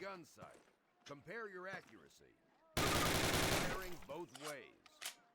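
Call of Duty World War II gunfire erupts in a loud, rapid burst of automatic fire lasting about a second and a half, set between stretches of someone talking over the game.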